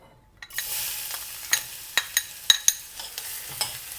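Chopped garlic frying in oil in a clay pot, a continuous bright sizzle punctuated by several sharp scraping clacks of a utensil stirring, with no talk.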